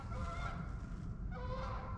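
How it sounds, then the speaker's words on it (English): Geese honking as they fly over public hunting land during deer season, a fairly faint, irregular run of calls from a distance over steady low outdoor rumble. "Geese are flying over."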